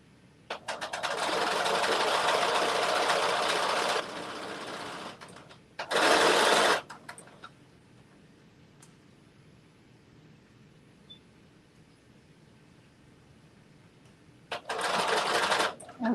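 A noisy home sewing machine in need of servicing runs in three loud bursts, the first several seconds long and the later two shorter, with quiet gaps between.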